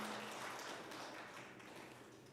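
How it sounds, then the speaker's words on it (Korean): A church congregation applauding during a Sunday service: a steady, even wash of many hands clapping, fairly soft and distant, continuing for the whole stretch without talk. "여러분들 박수로 격려해 주시기 바랍니다."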